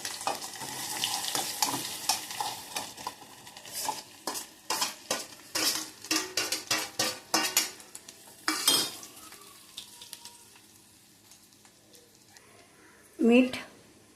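Potatoes stir-fry in a pan of oil with cumin, mustard seeds and green chili, with repeated scraping strokes of a spoon against the pan over a soft sizzle, then a louder clatter near the end, without speech.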